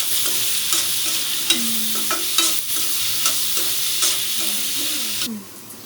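Onions sauté in a pan with a little salt, a loud continuous sizzle of frying oil broken by repeated scraping stirs of a spoon, close up, the hiss cutting off near the end.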